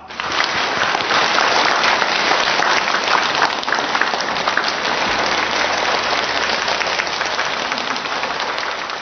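Sustained applause from a crowd of wedding guests, dense and steady clapping that stays loud for the whole stretch with no talking over it.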